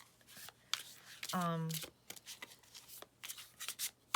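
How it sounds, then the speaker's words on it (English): Quick fluttering riffle of playing cards being shuffled, a short burst close by, surrounded by light handling noises and faint taps. "So a lot of people can still riffle shuffle if you want to"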